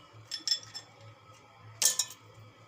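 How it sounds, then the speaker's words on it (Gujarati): A few hard clinks and rattles as ice cubes drop into a container, two short bursts, close by. "અને આપણે આ બરફ છે એ નાખી દેવું"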